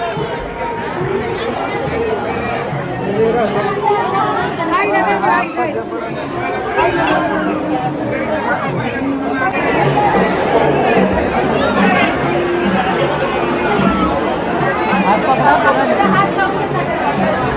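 Dense crowd chatter fills a busy temple, an unbroken hubbub of many overlapping voices close around, steady and fairly loud throughout.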